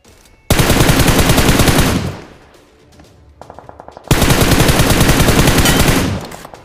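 Gunfire in a battle royale shooting game: two long, loud bursts of rapid automatic fire, close and dense, separated by a quieter stretch with a few scattered shots.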